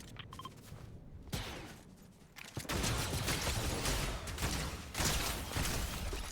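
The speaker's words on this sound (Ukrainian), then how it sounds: "Довго цей автоматичний, звичайно, стріляє." Sustained automatic rifle fire in the Fortnite video game, a long continuous burst of loud rapid shots after a quieter opening with scattered game sounds.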